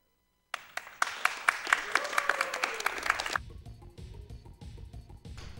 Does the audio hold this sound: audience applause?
yes